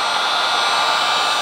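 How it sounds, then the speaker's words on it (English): A heat gun runs steadily for removing old window tint and its glue, giving a loud, close, constant blower whoosh with an even airy roar and no breaks. "I'm just going to take the heat gun"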